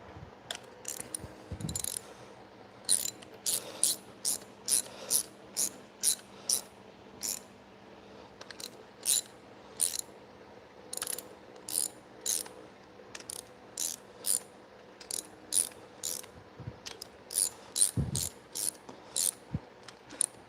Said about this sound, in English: I should just grab a torque wrench.